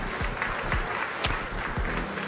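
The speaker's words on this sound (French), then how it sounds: "merci de l'applaudir" A crowd at an equestrian competition results ceremony applauds steadily, a dense continuous patter of many hands clapping at moderate volume.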